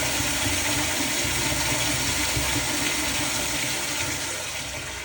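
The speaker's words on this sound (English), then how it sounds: "And that's the flush, which can be very loud" An automatic sensor-flushed toilet in a school bathroom roars with a loud, continuous rush of water that holds steady for several seconds, close by with no talking.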